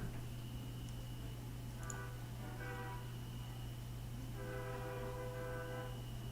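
A train rolls past with horn blasts sounding in bursts, long tonal honks repeating over a steady low rumble, fairly distant and continuous.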